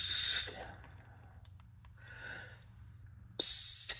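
A turbo whistle fitted to a car exhaust gives a short shrill whistle, then after a quiet gap a second, louder and sharper blast near the end, both close by.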